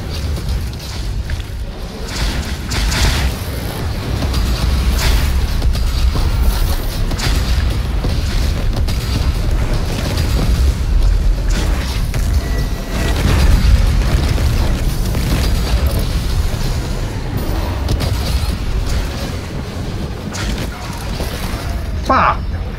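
Bazooka rockets go off in Doom Eternal amid game combat, with repeated heavy booms and bursts over a loud, dense bed of noise lasting the whole stretch, and a voice talking at times.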